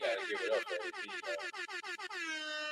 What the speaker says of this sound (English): You gotta get an air horn for Apollo, dog.